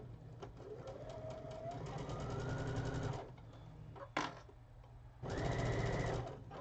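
A sewing machine stitches over a bulky seam in two bursts of steady whirring, the motor straining, with a short pause between runs and a brief knock in the gap.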